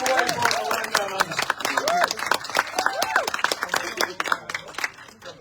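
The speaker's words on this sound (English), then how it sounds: "Can we have a very, very warm round of applause?" A church camp audience applauds to welcome a speaker, with dense clapping running under a voice for several seconds.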